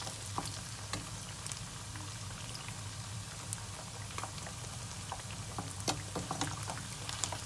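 Chicken pieces for a crispy lemon-glazed dish frying in a pan, a steady low bubbling sizzle with scattered sharp pops and crackles throughout, moderately quiet and close.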